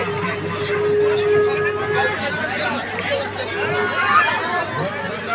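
Dense crowd babble at a Shiva temple jagar fair in Badadhanadi, Balasore, a continuous hubbub of many overlapping voices, with a brief tonal whine early on and steady, fairly loud ambient noise throughout.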